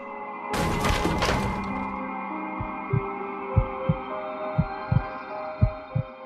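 A deep, muffled heartbeat thumps at an even pace over a low steady hum, after a brief loud crash of noise at the start.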